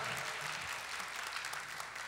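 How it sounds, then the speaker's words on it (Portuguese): A church congregation applauds steadily throughout, a dense, continuous wash of clapping from many hands with no pauses. "Vamos aplaudir a palavra de Deus. Pode aplaudi-la com força, com coragem."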